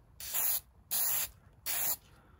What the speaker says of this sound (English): I'm just going to give them a quick shot of this Krylon Crystal Clear to seal them and prevent further tarnish of the brass